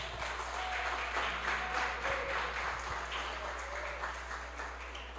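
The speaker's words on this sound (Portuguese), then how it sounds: "Dá um salto de palmas para Jesus." A church congregation gives sustained applause for Jesus, a broad even roar of many hands clapping under a steady low hum, lasting throughout.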